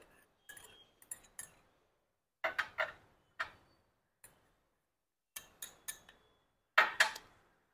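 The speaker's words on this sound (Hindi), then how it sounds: "अब मैं इन तीनों इन्ग्रीडियंट को मिक्स कर दूँगी" A spoon clinks and taps against a bowl while wheat flour, turmeric and yogurt are stirred into a paste. The light, quiet clicks come in small irregular clusters with silent gaps between them.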